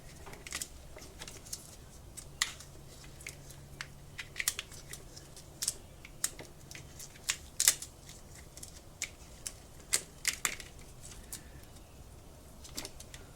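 Tape being peeled and undone from the wiring harness on a 2011-or-newer Toro zero-turn mower: a run of sharp, close crackling ticks and rips at an uneven rhythm over a low, quiet background, with no talking.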